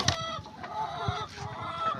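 Several laying hens cluck and murmur nearby in a busy, overlapping stream, with occasional sharper squawks.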